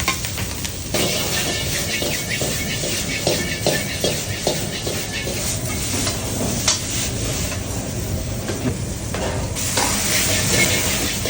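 Meat frying in a hot pan, a dense, loud, continuous sizzle with small crackles and occasional stirring scrapes throughout.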